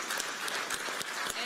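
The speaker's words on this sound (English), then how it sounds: "I'll get you guys to give a round of applause to these very" Brief, fairly faint applause from a crowd at a PAX Australia 2017 stage show, a scattered wash of clapping with a few sharper claps standing out.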